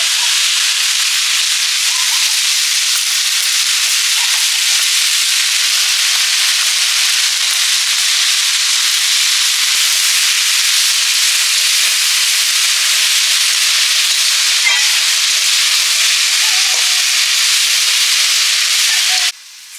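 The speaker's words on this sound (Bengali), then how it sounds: "কলমি শাকগুলো ভাজা করে নিচ্ছি" Water spinach (kalmi shak) frying in a pan gives a loud, steady hiss and sizzle that runs unbroken and close throughout.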